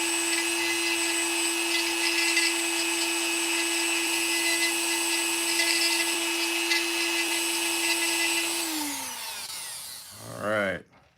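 A Dremel rotary tool grinds into the head of a toy, a steady high-pitched whine held loud and close for about nine seconds before it winds down, followed by a brief rattle at the end.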